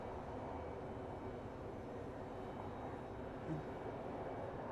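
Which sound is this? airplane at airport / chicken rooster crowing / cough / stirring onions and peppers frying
airplane at airport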